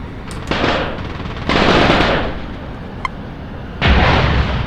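Bombs and gunfire bursting in the aerial combat game Nuclear Option: several loud, broadband blasts with rumbling tails, separated by brief quieter gaps, alone without speech.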